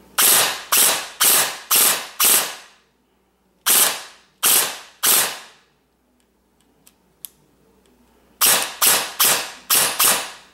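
Ares G36C airsoft gun piston cycling on trigger pulls, sharp mechanical snapping shots in quick bursts of five, three and five, separated by quiet pauses with faint clicks.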